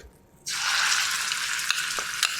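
Ground spice paste for a rustic Maharashtrian amti hits hot oil in a pan: a sudden loud sizzle that starts after a brief quiet moment, then holds as a steady crackling hiss, with a few sharp pops.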